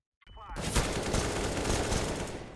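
P250 pistol gunfire in a competitive first-person shooter match, a sudden loud burst of rapid shots right after brief silence, dense and sustained to the end.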